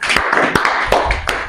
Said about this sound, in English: Can you clap for yourselves?